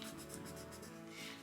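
An Inktense pencil scratches softly across journal paper in a brief, faint, steady stroke, heard alone.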